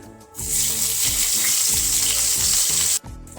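Crushed ginger hitting hot oil with a bay leaf and cumin seeds, a loud sudden sizzle that flares up and holds steady for a few seconds before cutting off.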